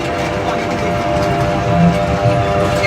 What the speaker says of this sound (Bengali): ভাই ট্রেন তো চলে গেলে আমাদেরকে রাইখে